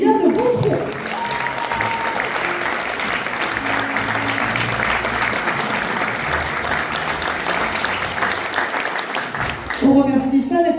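Theatre audience applauding during the curtain-call credits of a stage play, a dense sustained wash of clapping that fills the room, with voices calling out underneath and a brief burst of talk at the start and end.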